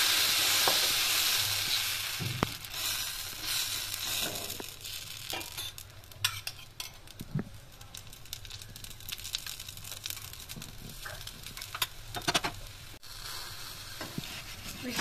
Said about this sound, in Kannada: ಈಗ ಹೀಗೇನೆ ಇನ್ನೊಂದೆರಡು ದೋಸೆನ ಕಾಯಿಸ್ಕೊಳ್ತೇನೆ